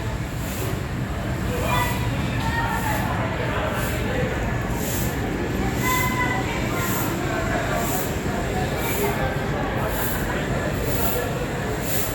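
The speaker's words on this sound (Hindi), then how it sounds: "बिल्कुल राइट टाइम चल पड़ी है हमारी ट्रेन नई दिल्ली रेलवे स्टेशन से" New Delhi–Kalka Shatabdi train pulling out of New Delhi railway station: a steady, loud rolling rumble and rattle of the carriages fills the whole stretch, with voices talking over it.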